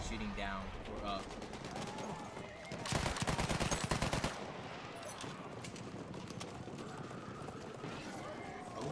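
Battlefield 1 gunfire crackles in a dense burst of rapid shots, loud and close for a moment, set against ongoing game noise and someone talking over it.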